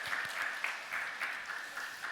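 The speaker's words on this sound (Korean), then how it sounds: "하나님께 영광의 박수 올려드리겠습니다." Church congregation applauding during a Sunday worship service, a steady wash of hand claps with a few sharper individual claps standing out, moderately loud and continuous with no talking.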